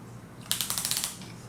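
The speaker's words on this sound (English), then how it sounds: "You hear those loud ratchets." Heavy skirts on a Titan Power King of Beasts are ratcheted into place, producing a quick close burst of about eight loud, evenly spaced ratchet clicks over roughly half a second.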